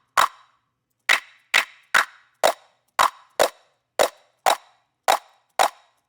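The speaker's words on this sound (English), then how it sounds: "It's a cool sounding clap." Eleven crisp clap hits from a paper-bag sample snap out in a loose, uneven rhythm. Each one is a bright, close transient with a brief decaying tail and silence between.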